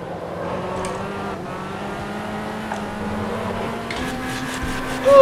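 Fiat Uno race car engine in the racing game Automobilista 2, a steady droning hum held at near-constant pitch, then a brief louder surge at the very end.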